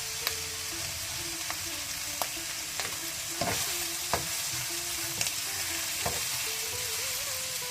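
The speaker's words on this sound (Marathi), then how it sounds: "हे मांस 1-2 मिनटां बरें भाजून दियात" Pork pieces fry for a pepper fry in a hot pan, a close steady sizzle broken by repeated sharp scrapes and clinks of stirring, with no talk.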